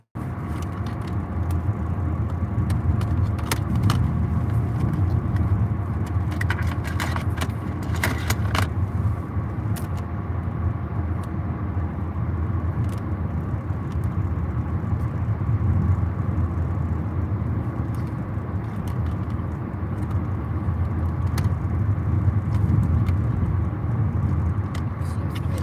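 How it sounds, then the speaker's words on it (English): Inside a moving car, a steady road and engine rumble runs throughout, with small intermittent rattles and jingling clicks from something loose surfacing now and then over the drone. "Something's rattling."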